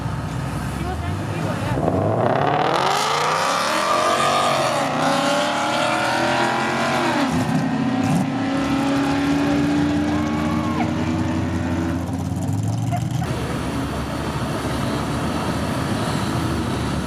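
Mustang race car at Dominion Raceway, its engine note sweeping up through the gears in repeated rising pulls, then a fading pass with tire noise, loud and close under occasional talk.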